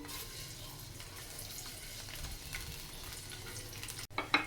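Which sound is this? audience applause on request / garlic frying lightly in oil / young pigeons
garlic frying lightly in oil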